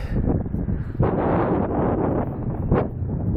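Strong outdoor wind buffets a microphone in a constant low roar that swells in a few louder gusts, fully masking other sound, heard close and loud with no speech.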